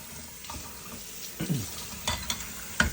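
Dishes being rinsed with water at a kitchen sink: steady running water with splashing, plus a few clinks and knocks of plates and utensils, with no talk.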